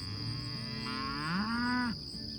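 A single cow on a livestock farm lets out a long, rising then falling moo, fairly close and clear over a steady high electrical hum.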